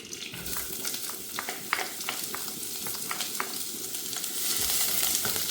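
Onion and garlic sizzle in a big spoonful of hot ghee, a steady close frying hiss peppered with sharp crackles and pops, growing slightly denser toward the end, with no talking.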